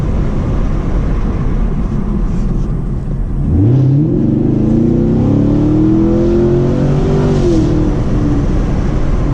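A loud, nearby 2018 Chevrolet Camaro SS engine idles, then revs up with a rising roar that holds and climbs steadily.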